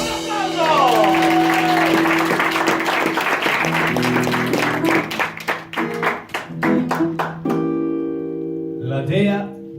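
Applause from an audience at an Italian poetry reading, a dense burst of clapping that thins into scattered claps and fades out near the end.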